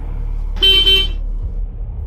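A motorcycle horn gives a short double honk over a steady low engine rumble, loud and close, with no voices.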